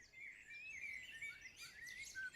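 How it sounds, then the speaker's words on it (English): Ambient birdsong in a real-time strategy tower defense game, a steady run of high chirps and warbling calls, faint and continuous with no other sound. "the music in-game is just birds"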